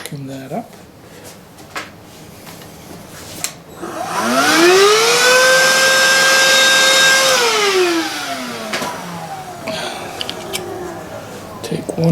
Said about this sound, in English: I'll vacuum that up.